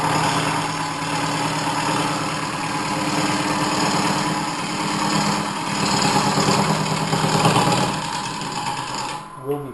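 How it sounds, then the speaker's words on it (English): A woodturning tool cuts into a natural-edge hollow form spinning on a lathe, giving a steady, loud, continuous whirring and scraping grind that holds for nearly ten seconds, with a brief drop near the end. "This tool sure takes off a lot of wood, I'll tell you."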